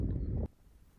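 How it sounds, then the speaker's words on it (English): Wind buffeting a microphone on a chalk grassland hillside at Coombe Bottom, Ventnor, Isle of Wight: a loud low rumble for half a second that cuts off abruptly into quiet, faint breeze. "it's getting a bit breezy"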